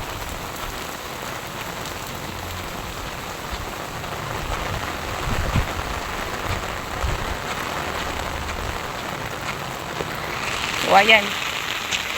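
Steady heavy rain pours down continuously, a dense hiss of drops on surfaces, with a brief spoken remark near the end.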